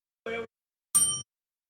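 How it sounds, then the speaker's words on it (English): Two separate metallic dings from a bell on a podcast set, the second brighter and ringing slightly longer, each cut short with silence in between. "Where's my bell?"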